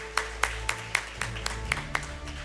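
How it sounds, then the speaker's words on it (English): A few people clap sparsely for the online participants at the closing ceremony of a law school negotiation competition, producing about nine separate, evenly spaced claps rather than a full ovation. "Can we please have a huge round of applause for our online participants?"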